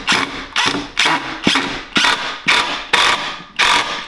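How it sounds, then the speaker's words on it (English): Impact driver sinking a pocket hole screw into wood, heard as eight loud, evenly spaced bursts of rapid mechanical hammering, each roughly half a second apart, close up and alone. "And this is an impact driver, not a drill."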